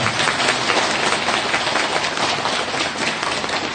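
An audience at a Korean Buddhist ceremony applauds to celebrate newly recognized bodhisattvas, the clapping dense, even and continuous throughout.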